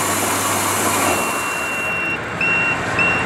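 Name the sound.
paddy quality test machine buzzer signalling process finished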